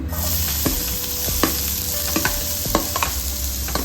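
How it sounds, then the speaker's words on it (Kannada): Mustard seeds and cumin splutter in hot oil with a steady sizzle dotted by sharp pops and crackles at irregular intervals, close and fairly loud with no voices. "ಸಾಸಿವೆ, ಒಂಚೂರು ಚಟ್ಪಟ್ ಅಂತ ಸೌಂಡ್ ಆಗಬೇಕು."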